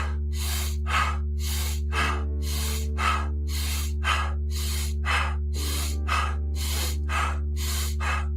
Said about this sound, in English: rejoining us as we continue with the breath work